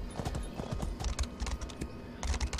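Rapid clip-clop of horse hooves in The Elder Scrolls Online, a quick steady gallop rhythm close up, with no talking.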